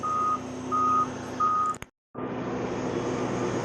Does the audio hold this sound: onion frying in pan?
no